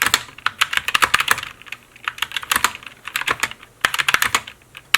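Fast, uneven clatter of typing on an EpoMaker SK61 optical keyboard fitted with flat XDA profile keycaps, bright close-up key clicks in bursts with short pauses between words.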